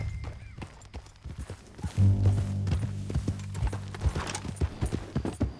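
Horse hooves clip-clop steadily in Red Dead Redemption 2, a run of sharp, evenly spaced strikes growing louder partway through under a low rumble, with no talk.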